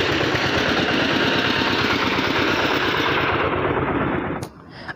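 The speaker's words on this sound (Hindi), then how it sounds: "यो ट्रैक्टर तो भाई अपना उल्टा चल रहा है" A tractor in Haryana driven in reverse, its engine chugging loudly and steadily in a rapid, rattling rhythm up close before suddenly cutting off near the end.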